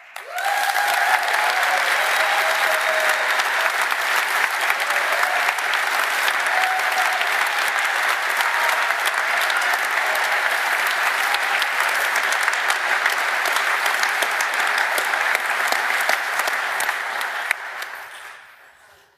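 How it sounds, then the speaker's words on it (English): Sustained, loud audience applause at a conference closing, a dense even roar of many hands clapping for nearly twenty seconds before tapering off abruptly. "So please give an applause to Patricia, Alexandra Sendeka, and Ola Sita"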